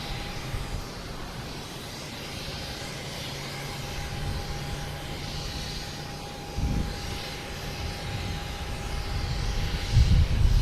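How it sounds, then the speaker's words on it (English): An American Airlines Embraer E170 jet comes in to land at Boston Logan, a distant steady engine rumble with a faint whine, growing somewhat louder toward the end. "American Airlines coming in from LaGuardia,"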